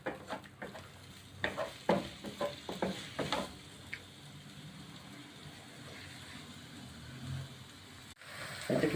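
Onions frying in a pan until light brown for a Bihari qeema, with a soft steady sizzle, a few clattering stirs and spoon scrapes early on, then quieter bubbling, heard up close.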